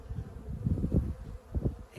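Honey bees hum around backyard hives, a low close-up buzzing that swells and fades in short bursts, quiet overall with no voices.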